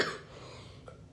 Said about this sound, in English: sorry, I had a cough attack.